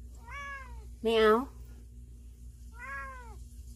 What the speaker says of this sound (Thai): ร้องเมี้ยวสิ